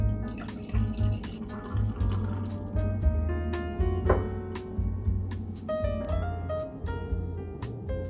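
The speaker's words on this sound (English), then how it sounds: "feel free to pour yourself a drink" A drink is poured, liquid splashing and trickling in uneven spurts with small clinks, close and moderately loud.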